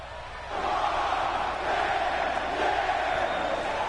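A wrestling arena crowd cheers for Rob Van Dam, a dense roar that surges up after a quieter start and holds steady, loud and distant-sounding, with no clear talk.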